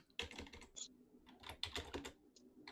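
Quiet, steady typing on a computer keyboard, rapid irregular key taps heard close but faint with no voices.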